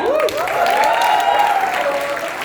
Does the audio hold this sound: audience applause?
yes